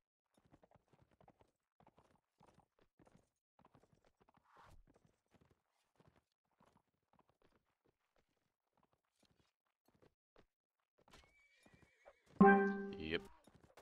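Soft clip-clop of hooves under quiet talk, then a loud horse neigh near the end from a low-health horse in a video game.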